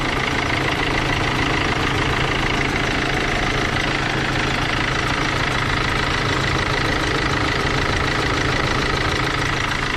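A Mercedes Sprinter W906 van engine idles with a slight rattle, a steady close mechanical clatter that runs unchanged for the whole ten seconds with no talking.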